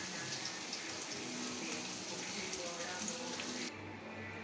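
Eggplant fries in a pan with a steady, hissing sizzle that runs unbroken before dropping off abruptly near the end.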